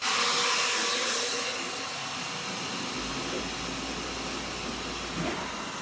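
An Autocut F1612 flatbed cutting machine runs a cut, giving a steady, close whirring hum like a vacuum blower that holds evenly throughout with no talking.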